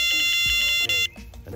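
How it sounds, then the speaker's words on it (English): An electronic bite alarm on a carp fishing rod sounds off with a rapid run of close, shrill beeps that cut out abruptly near the end. "You hear that, people? Bite alarm's going on."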